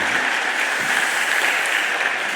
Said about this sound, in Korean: 우리 그분들의 수고도 기억하시면서 박수 한번 해주시기 바랍니다